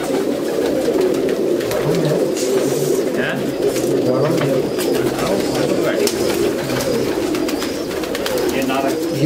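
Rampuri and Sialkoti pigeons keep up a steady, close cooing murmur, with occasional wing flutters and scattered clicks over the low throaty drone.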